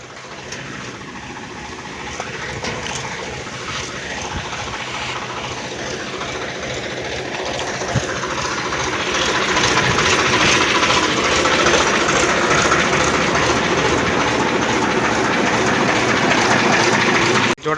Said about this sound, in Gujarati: આપણું ટ્રેક્ટર દાંતી આંકીને આવતું રહ્યું છે